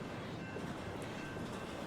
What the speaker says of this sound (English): the BNSF, aka Burlington Northern Santa Fe Railway Company line, which also chugs through this ecoregion